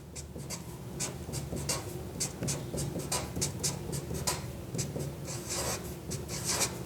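Pen writing on paper while a chemistry mechanism is worked through, with a steady scratchy scribbling that has quick rhythmic strokes and taps, close and continuous over a constant room hiss.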